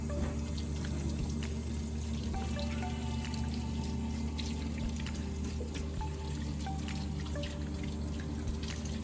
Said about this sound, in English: And then rinse underwater.